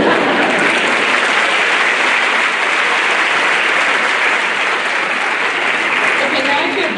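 Dense, steady applause fills a large hall during a high school graduation speech, a broad wash of many hands clapping at once, loud and sustained throughout.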